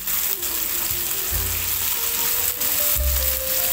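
Sausage stir-fried with shallots, garlic and chili sizzles in a steady, close frying hiss, with soft stirring and background music running underneath.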